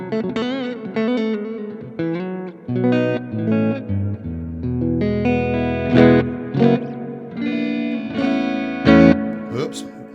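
A Fender Stratocaster electric guitar played through an Iridium amp with stereo reverb rings out in chords and single notes, with a rich sustained tone, spacious reverb tails and a clean-to-crunchy edge, loud and close.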